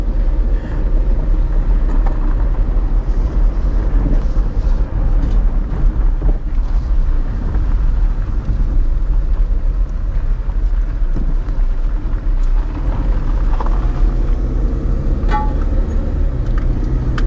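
An auction car bought from Copart driving along while shifting gears: a loud, steady engine and road rumble fills the whole stretch, with heavy wind buffeting on the microphone and no clear gear change standing out.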